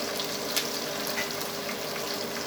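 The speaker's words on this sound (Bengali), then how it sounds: "এখন পেঁয়াজ দিয়ে দিলাম" Onion hits hot oil with nigella seeds and garlic in a pan for mushroom bharta, giving a close, steady frying sizzle with a few soft stirring scrapes.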